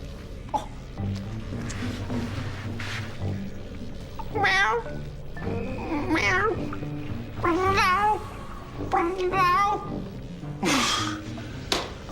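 A cat meows repeatedly, several drawn-out, wavering cries spread across the clip, fairly close and loud over a low background hum.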